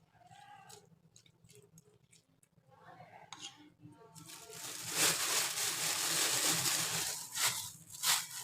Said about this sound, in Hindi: और अब इसको अच्छी तरह से मिक्स करूँगी।